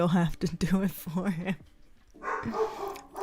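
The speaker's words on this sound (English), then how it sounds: "I'm so sorry if you can hear my dog barking." A dog barks in short yappy bursts indoors, several quick barks mixed in with a person talking over them, then a brief lull before more noise.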